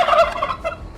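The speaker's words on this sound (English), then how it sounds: "that flock of wild turkeys on Baker Avenue" A wild turkey from a town flock gobbles once, a quick rapid warbling call heard clearly and fairly close with no other sounds around it.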